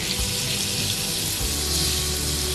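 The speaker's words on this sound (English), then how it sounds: "and then you can add your coconut milk." Coconut milk poured into a pan while cooking chicken halang-halang, a steady close liquid pouring and splashing wash that runs continuously for a few seconds without any talk.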